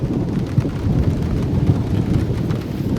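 Low rumbling thunder rolls close by over steady falling rain during a storm with mammatus clouds, a continuous deep grumble with no voices.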